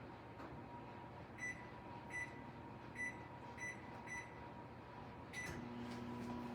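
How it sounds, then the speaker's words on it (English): A microwave oven melting butter on a low setting hums steadily beneath faint background noise, with several short high beeps spaced about a second apart, then the running tone shifts. "Start the microwave, melt the butter on a low setting."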